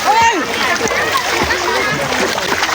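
A child learning to swim at a river ghat, splashing water continuously and loudly up close while people talk over the splashing.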